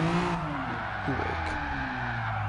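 A car drifting sideways under the e-brake in the GT Sport racing video game, its tires squealing with a wavering engine drone, fairly faint and steady throughout.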